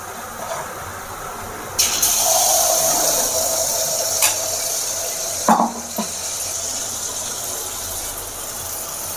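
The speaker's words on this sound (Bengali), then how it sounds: "তেলটা গরম হয়ে গেছে। এবার আমি মালপোয়ার যে গোলাটা করেছিলাম এখানে এটা দিয়ে দেবো" Malpua batter hits hot white oil in a wok and fries with a steady close sizzle, marked by a few sharp bursts and metallic utensil clinks along the way.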